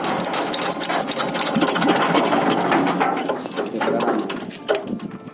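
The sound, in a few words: engine revving during servicing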